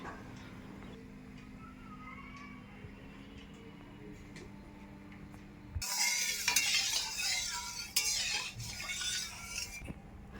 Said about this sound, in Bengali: এবার কড়াইতে সরিষার তেল দিয়ে দেবো।